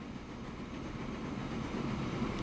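A train runs along the rails in the Transport Fever 2 game, a steady low rumble with faint rhythmic rolling, rising slightly in loudness as it goes.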